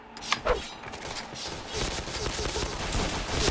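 Gunfire in the online shooter Point Blank, a couple of sharp shots early on followed by a dense, rattling stream of rapid fire and impacts building toward the end.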